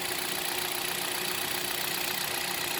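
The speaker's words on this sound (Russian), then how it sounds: "Запускаем мотор." A Hyundai Solaris 1.6 or 1.4 engine on 5W40 oil idles steadily with a constant hum and faint mechanical ticking, continuous throughout with no voices.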